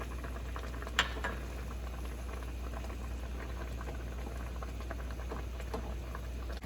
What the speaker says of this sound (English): now we had our chicken in the mixture. Been simmering for about 6 minutes.